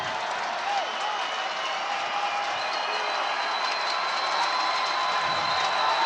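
Loud, steady roar of a large football stadium crowd at a college game between Arkansas State and Southern Miss, cheering continuously at a close finish, a dense wash of voices filling the whole stretch without letting up.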